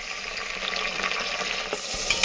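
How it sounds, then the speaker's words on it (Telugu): Tomato pieces fry with browned onions in a pan for pumpkin biryani, giving a brief, close, steady sizzle with light stirring scrapes and a soft knock near the end. "ఇప్పుడు ఉల్లిపాయలు దోరగా వేగాయి కాబట్టి టమోటా వేసేస్తున్నాను"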